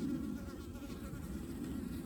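Honey bees buzz steadily around a nuc colony, a dense, continuous low drone close by that fills the whole stretch with no voices.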